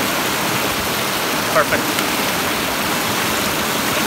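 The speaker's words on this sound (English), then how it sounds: "We have a river, quite fast running water, some white coming from the water" Fast-running mountain river with white water in Glencoe, Scotland, a steady broadband rush filling the whole clip; a brief word is spoken over it.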